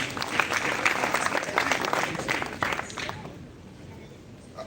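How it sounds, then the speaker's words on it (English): An audience gives a speaker a round of applause at a public presentation, dense clapping filling the room for about three seconds before fading to a quieter scatter of claps. "Give him a round of applause"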